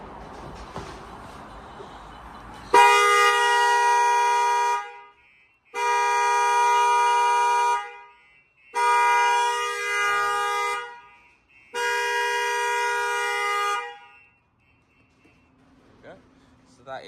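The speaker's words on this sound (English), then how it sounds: "So that is the horn honking, siren, and the phone call coming through" A StarLine S9 alarm on a 2020 Lexus ES 300h blasts four long, loud horn tones of about two seconds each with short gaps, following quieter background noise and ending in near silence.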